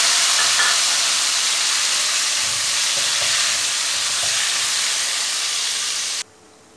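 Large chunks of tomato dropped into a hot pan with cumin seeds, giving a loud, steady frying sizzle with a few light clinks; the hiss holds for about six seconds, then stops abruptly.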